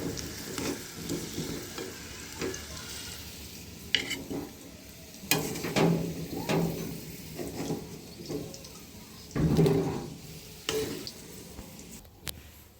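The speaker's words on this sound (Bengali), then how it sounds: "আলুগুলো ভাজা হয়ে গিয়েছে, আমি তুলে নেব এখন।" Fried potatoes are lifted out of a frying pan with a utensil over continuous oil sizzle, giving scattered scrapes and clinks in an irregular rhythm, close and moderately loud, with a longer scraping stretch near the end.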